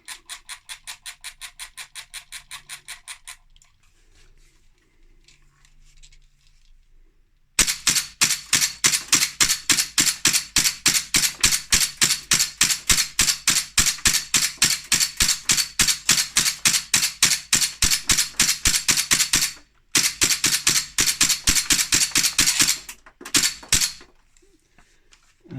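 A WE M14 airsoft rifle fires BBs in a long rapid string of sharp, evenly spaced clicking shots, loud and close, with brief pauses near the end; a quieter mechanical clicking passage comes first.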